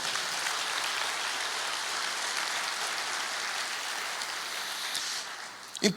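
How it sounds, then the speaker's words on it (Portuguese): A church congregation applauds in a sustained, dense wash of clapping that holds steady, then fades out toward the end. "Você pode aplaudir o Senhor, meu querido?"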